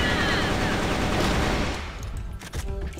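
Rapid bursts of gunfire in a competitive bomb-defusal shooter game crackle loud and dense, rolling continuously for the first half before thinning into a few scattered shots and fading echoes.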